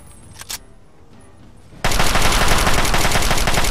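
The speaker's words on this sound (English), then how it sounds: "I shot his feet." Sustained, loud rapid gunfire from Lincoln's Repeater rifle in the video game Fallout 3 bursts in abruptly after a quiet stretch with a couple of faint clicks, then continues densely to the end.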